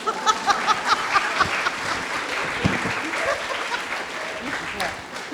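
Audience applause at an arts event, steady clapping spread across the room with crisp individual claps near the start, continuing for several seconds with a murmur beneath.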